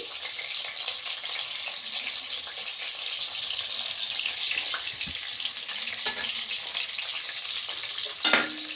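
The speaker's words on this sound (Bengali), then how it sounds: "পটল কটা হালকাভাবে তেলে একটু নাড়াচাড়া করে নেব" Stuffed pointed gourds stirred in hot oil in a pan give a steady, close sizzle with soft scraping from the stirring and a brief louder clatter near the end, with no talking.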